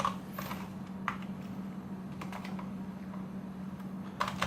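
Keystrokes on a computer keyboard during an Arch Linux install, tapped in short irregular bursts over a steady low electrical hum, with no voices.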